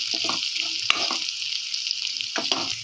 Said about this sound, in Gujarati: ઓર કેપ્સિકમ આપણે એકદમ સરસ રીતે થવા દઈ દીધું